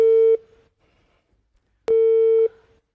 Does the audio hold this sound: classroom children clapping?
no